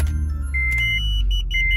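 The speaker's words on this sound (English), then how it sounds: "So we're just going to go ahead and then just turn it on, completely on." An Acura TL from the 2004–2006 range is switched on, giving a steady low engine-like rumble with a brief whirring hum, followed by faint electronic beeps and chimes.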